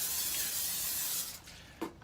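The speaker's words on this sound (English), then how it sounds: "take a solo cup, that's this, and spray it with Pam" Pam cooking spray hisses onto a Solo cup in a steady, close, loud aerosol stream lasting over a second, then tapering off with a short final burst.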